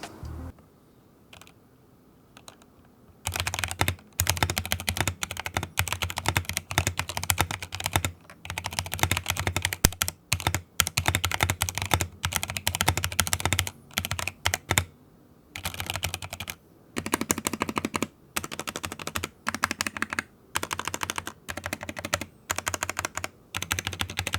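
Steady clacky typing on a mechanical keyboard with Akko POM Brown tactile switches, dense rapid keystrokes with brief pauses, close and fairly loud, no talking.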